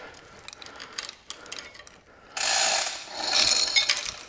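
A ratchet handle is wound to lift the head off a 1929 McCormick Deering engine, giving two bursts of rapid metallic clicking, close and moderately loud, after quieter handling noises.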